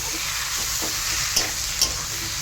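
Boiled pui greens frying with a little bean in a pan, a steady hiss of sizzling with two soft spatula scrapes as they are stirred, close and moderately loud, no talking.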